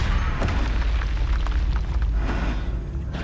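The Confringo blasting spell in Hogwarts Legacy sets off a loud, continuous rumbling explosion that holds at steady power for several seconds with a dense low roar and no voices.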